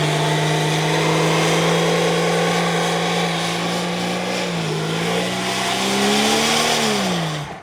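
A Tarpan 4.0 car with a 200 hp engine drives along, its steady engine drone holding an even pitch before rising and falling through a brief rev change near the end, loud and close with no talking.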